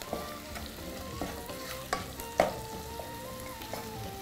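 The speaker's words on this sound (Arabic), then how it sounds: "لازم ندبل البصل كويس جدا الاول" Onions softening in a pan for onion soup, a quiet sizzle with occasional light stirring taps and scrapes, close by.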